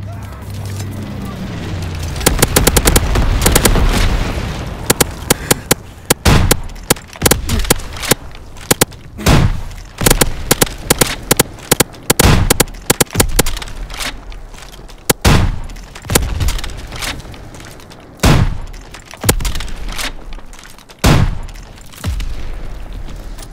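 Incendiary bombs from a low-altitude bomber run in Call of Duty WWII burst in a long series of loud, sharp explosions and crackling blasts, spaced irregularly over a rumbling background, with game voice callouts mixed in.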